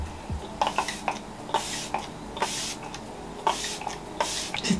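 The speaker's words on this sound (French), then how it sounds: "On va pchiter loin de moi." Makeup setting spray mists from a bottle in a series of short, soft pumps, each a brief airy hiss, spaced irregularly and heard up close, with faint handling clatter in between.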